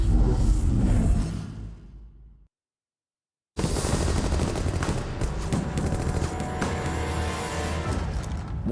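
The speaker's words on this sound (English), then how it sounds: "Conley raises his .30-06 Springfield and fires a shot into the front of the house." A .30-06 Springfield rifle fires in a film shootout scene, a loud blast with dense rattling gunfire and a sudden cut to silence, then a second burst of heavy, sustained firing noise.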